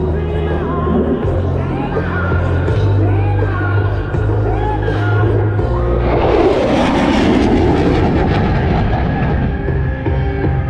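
An F-16 Fighting Falcon makes a high-speed pass at the Sun 'n Fun 2025 air show, a loud continuous jet roar that swells and shifts in pitch as it passes, with a crowd and an announcer's voice mixed underneath.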